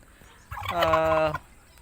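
A single brown domestic turkey lets out one close, clear gobble, a rapid warbling burst of under a second against a quiet farmyard background.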